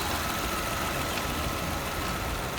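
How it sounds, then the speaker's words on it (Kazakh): A Toyota Camry 30 sedan's engine idles, a steady dense rumble with a continuous even drone from start to finish, close and moderately loud with no talk. "Қозғалтқыш әдейі істеп тұр екен."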